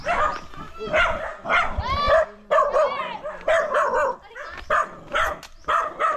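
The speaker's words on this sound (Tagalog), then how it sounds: "May kasama kasi kami aso." Dogs bark and yip repeatedly in short, high bursts, fairly close on farmland in the Philippines, mixed with people talking nearby.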